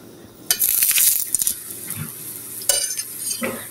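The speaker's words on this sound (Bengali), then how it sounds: "তারপরে আমি এই তো ফ্রাই প্যানের মধ্যে আমি রুটিগুলি হালকা একটু গরম করে নিব" Leftover rotis are warmed in a frying pan: a bright sizzle with rapid metallic scraping and clinks of a utensil against the pan, then a few scattered clatters and shuffles. No one speaks.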